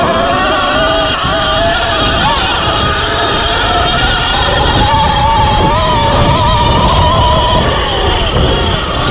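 An E Ride Pro SR electric dirt bike pulls hard in race mode, its motor whine rising in wavering tones over steady loud wind rush, continuous and close throughout.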